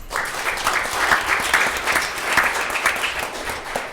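An audience applauds state legislators at a regional education event, dense clapping at moderate volume that holds steadily for several seconds without talk.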